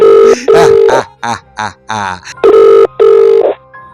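A telephone rings loudly in repeated electronic bursts, two rings, a pause, then two more, with brief voice-like sounds in the gaps.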